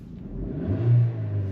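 A Maruti Suzuki Grand Vitara engine, quiet at idle, swells into a smooth rising rev with a steady droning hum as the RPM climbs past 2500, heard close from inside the car.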